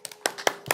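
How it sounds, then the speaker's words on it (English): A few separate hand claps from an audience at a city council meeting in Inglewood, four sharp slaps in under a second, sparse and close rather than a full round of applause. "So if you guys can give me a hand clap for them"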